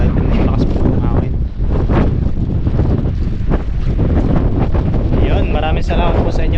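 Strong wind buffets the microphone outdoors at a fishing spot, a steady loud roar and rumble throughout, with water and gusts mixed in and faint voices under it.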